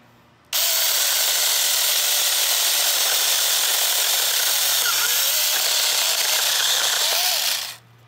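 An Alloyman mini chainsaw cuts through a tree branch, its loud, steady, high-pitched motor whine starting abruptly and running unbroken for about seven seconds before cutting off.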